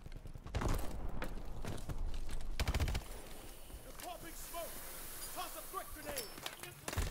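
Rapid automatic gunfire from a 40-round weapon in Call of Duty Advanced Warfare, two sharp bursts close by in the first three seconds, followed by quieter in-game clatter and chirping effects.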